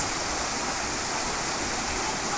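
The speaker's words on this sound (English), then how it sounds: "on the way you get this waterfall. It's a beautiful waterfall" Verna Spring waterfall near Loutolim in South Goa, India, roars as a dense, constant rush of falling water, loud and close, with no other sounds over it.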